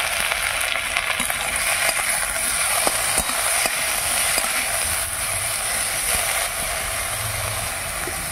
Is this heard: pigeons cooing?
no